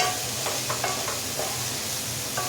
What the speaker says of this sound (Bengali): সবগুলোকে একসাথে দিয়ে আমি একটু ফ্রাই করে নেব ভালো মতন করে